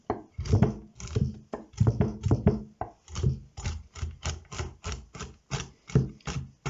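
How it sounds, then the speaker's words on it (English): A knife chops cauliflower on a board in a steady series of close, crisp knocks, about a dozen in quick rhythm, with no talk. "you can make sure you chop the big bits down into littler bits"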